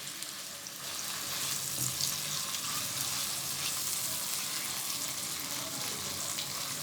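Minced keema sizzles steadily in a masala base, with a continuous close frying hiss and occasional stirring scrapes, while faint voices murmur underneath.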